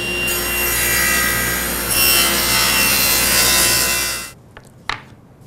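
A table saw rips a bevel taper through a wooden workpiece, a loud, sustained whining cut lasting about four seconds before the blade noise drops away, followed by a couple of light knocks.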